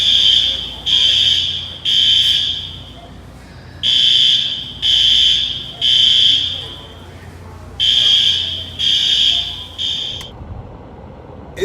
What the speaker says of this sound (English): I'll probably put that clip from the fire alarm